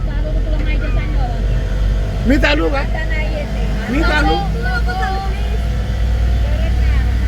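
Steady loud road rumble of a vehicle while riding, a constant low drone with chatter and voices talking over it throughout.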